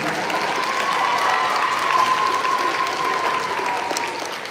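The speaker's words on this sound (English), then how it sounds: "One more round of applause for Mr. Freeman." Steady applause from a school audience at an elementary school Veterans Day event, a dense, continuous patter of clapping that holds evenly for several seconds with a faint tonal hum beneath it.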